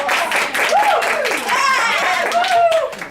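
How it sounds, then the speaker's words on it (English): A small group claps briefly in support, loud and near, with excited voices and laughter mixed in. "I think we should clap for really support."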